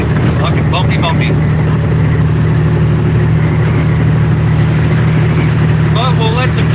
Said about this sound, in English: This truck's kind of loud